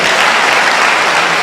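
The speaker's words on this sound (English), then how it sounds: "If you want to clap well." Dense, loud audience applause at a business conference, a continuous wash of clapping from a large crowd, with no voices standing out.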